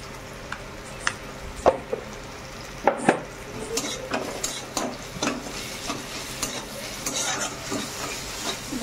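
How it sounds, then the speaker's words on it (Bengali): Onion, tomato, whole cumin and dried red chillies sizzle in a pan while a utensil stirs and scrapes, with sharp clinks against the metal at intervals over a steady, close frying hiss; no one speaks. "পেঁয়াজ, টমেটো আর জিরে, গোটা জিরে, লঙ্কা, শুকনো লঙ্কা ভাজা হচ্ছে এখন"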